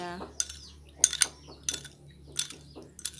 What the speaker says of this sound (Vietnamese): Rồi mình sẽ quậy cái hỗn hợp này cho nó tan ra ha